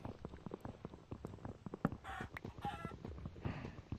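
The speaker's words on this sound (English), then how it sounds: "I hear that a chicken died, so I can grab the feathers." Chickens clucking and squawking in a Minecraft-style survival game, a quiet, steady run of short fowl calls and flapping noises over a faint, busy background, with no talk over it.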